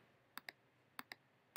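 A computer mouse clicks five times close by in a quiet room, crisp sharp ticks arriving in loose pairs and a final single click.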